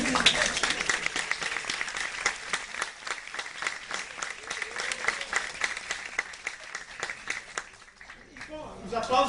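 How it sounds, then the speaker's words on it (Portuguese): Sustained applause from an audience at a testimonial event marking 50 years since the military coup, dense steady clapping filling the whole stretch and tapering slightly near the end. "os aplausos valem"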